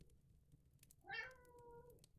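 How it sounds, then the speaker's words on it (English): A house cat gives a single faint, rising-then-falling meow in a quiet room, about a second long. "That's my cat."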